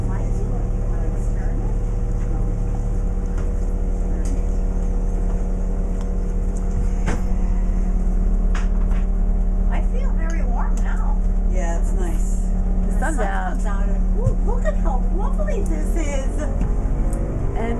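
A boat's engine drones steadily with constant low rumble as it moves along a canal, with voices chatting over it throughout.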